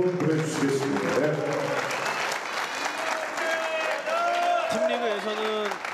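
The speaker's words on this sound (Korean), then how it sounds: "두 선수에게 박수를 한번 보내주시겠습니다" Crowd applause rises under an announcer's voice at a women's professional billiards championship final, with clapping continuing steadily throughout the short stretch.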